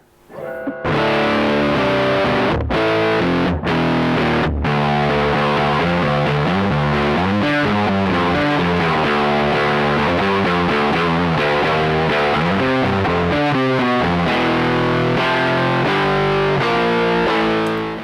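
Heavily distorted electric guitar played through a Harley Benton RockPlug Classic Rock headphone amp, sustained chords and riffs ringing loud and continuous with no talking.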